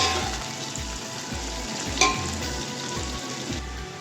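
Four or five chopped onions fry in a pot of oil for beef yakhni pulao, giving a steady, close sizzle with a single sharp clink near the middle.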